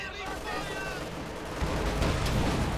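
Sturmgewehr assault rifle fire from Obersoldaten infantry in the strategy game Company of Heroes 2 rattles in dense bursts among other battle noise, loud and continuous, growing heavier toward the end.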